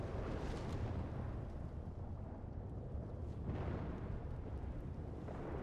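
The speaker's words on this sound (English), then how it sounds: "Storm's loud as hell." A thunderstorm in a Red Dead roleplay game: a continuous deep rumbling roar of thunder and storm noise, steady and heavy throughout with no voices.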